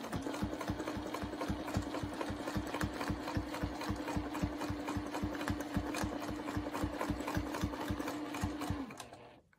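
Sewing machine running steadily while free-motion quilting cotton fabric, a loud, close, rapid regular needle chatter that holds evenly for about nine seconds before stopping.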